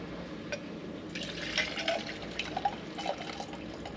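Liquid pours into a cup of ice, with faint trickling and scattered small clinks and splashes rising in the middle and fading, quiet and close.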